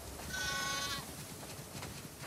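A single drawn-out sheep bleat from a farm flock in The Last of Us Part II video game, wavering and fairly close, standing out briefly over a steady low ambient hum before fading.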